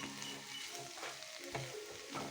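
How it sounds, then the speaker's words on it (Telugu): Bitter gourd curry with chili powder cooks on a stove, a faint, low sizzle with soft stirring scrapes in a pan and no voices. "ఇలా కలుపుతూ ఉండాలి"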